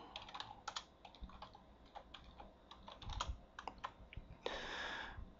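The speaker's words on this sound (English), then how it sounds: "I should type that to Dreen." Fingers type on a computer keyboard, a quick, irregular patter of close, crisp keystrokes with brief pauses, ending in a short rushing sound.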